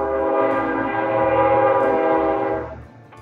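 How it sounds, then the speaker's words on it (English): A train rumbles past close by, its horn sounding a sustained chord over the rolling wheels before fading out near the end. "There's a train going by."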